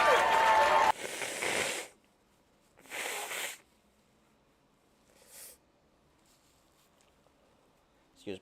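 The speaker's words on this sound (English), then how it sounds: "I should be muting while I'm blowing my nose here." Several separate bursts of forceful nasal blowing, two long and loud then a shorter, fainter one, separated by quiet pauses, after a brief moment of voice.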